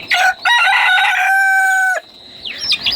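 A caged desi rooster crows once, loud and close, the call rising and holding before breaking off, followed by a brief cluck.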